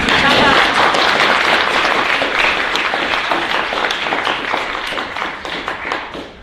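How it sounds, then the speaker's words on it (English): Conference audience at a socialist studies gathering breaking into a round of applause, dense and loud at first, then thinning into scattered individual claps as it fades toward the end. "So let's give ourselves a little round of applause."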